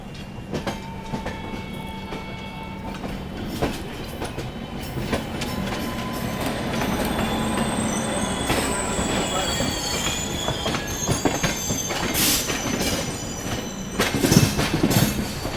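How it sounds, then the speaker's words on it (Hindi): A Purushottam Express train rumbles steadily as it pulls away from DDU railway station in India, with metal wheels squealing and clattering over the rails, loud and close throughout. "डीडीयू रेलवे स्टेशन से हमारी ट्रेन निकल चुकी है"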